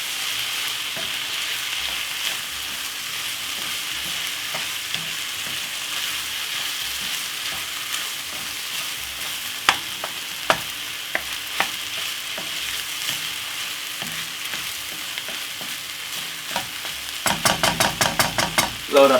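Prawn fried rice with vegetables and lemon juice is stirred in a hot pan, with a continuous sizzle under repeated scraping strokes that grow busier toward the end.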